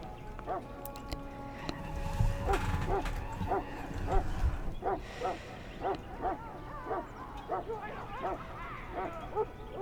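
A Mabari war hound barks in the Dragon Age: Origins video game, a steady run of sharp repeated barks over a low ambient game background.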